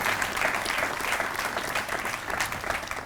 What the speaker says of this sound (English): So please join me in a round of applause for Tom, as well as Mark Bowen